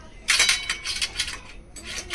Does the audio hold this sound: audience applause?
no